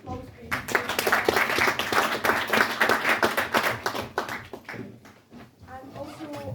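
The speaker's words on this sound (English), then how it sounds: "A big round of applause, please." An awards-event audience breaks into sustained applause, dense clapping from many hands that swells and then thins out, with voices talking over and after it.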